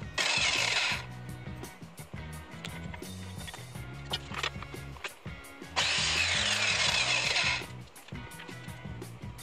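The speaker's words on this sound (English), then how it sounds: "I have a crosscut saw which makes things a little easier" A power crosscut saw cuts through wood in two loud bursts, with a droning motor hum continuing between the cuts.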